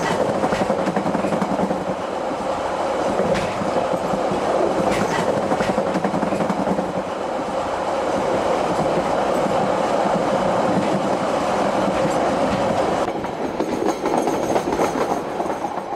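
A steam train rumbles steadily along the tracks up the Waimakariri River Valley, a continuous loud rolling clatter with a brief shift in tone near the end.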